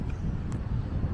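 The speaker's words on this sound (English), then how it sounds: "It is a little bit on the windy side" Wind blows at the seaside beside a beach of rock slabs, a loud, continuous rumble buffeting the microphone with no other sounds and no voices.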